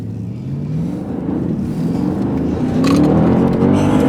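Porsche Panamera Turbo accelerating hard from inside the cabin, a deep engine rumble rising steadily in pitch and loudness as it pulls through the gear.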